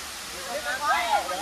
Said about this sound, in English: How you feeling about the waterfall right now?